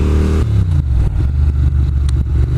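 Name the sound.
Ducati Monster 600 motorcycle riding between gears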